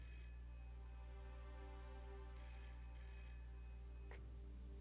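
Phone ringing during a call in the point-and-click adventure game Broken Sword: Shadow of the Templars Director's Cut, two short ring bursts close together followed by a sharp click, faint over a low steady hum, with no voices.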